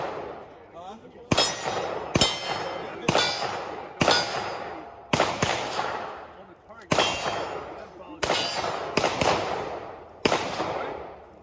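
Glock pistol shots at an indoor shooting range, about ten loud, sharp reports spaced roughly a second apart, each with a ringing metallic echo decaying behind it.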